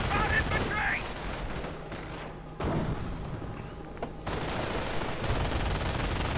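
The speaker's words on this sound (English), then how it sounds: "So there we go, firing away Grenadiers with rifles and one with an LMG 42." Bursts of MG42 machine gun and rifle fire from grenadiers in a World War II strategy video game, heard as dense overlapping gunfire and thumps that pause briefly and resume, with someone talking over the shooting.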